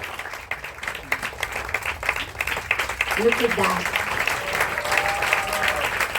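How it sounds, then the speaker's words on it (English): An audience claps at an aerial show, lively applause rising and staying strong, with a voice talking over it. "Please clap for them."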